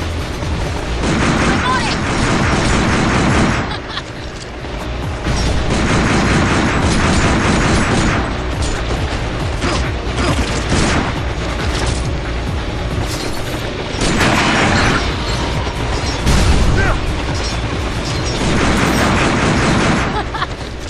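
Gunfire and explosions in the video game Binary Domain, a dense, loud, continuous barrage of booms and shots with voices speaking over the battle.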